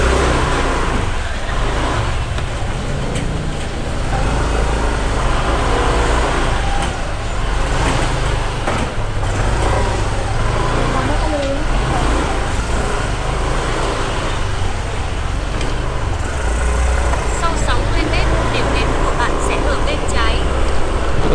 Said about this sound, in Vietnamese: Kẹt xe luôn.